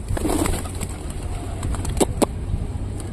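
Pigeons fed rice coo softly and peck nearby, with a few sharp taps or wing flutters over a steady background hum like distant traffic.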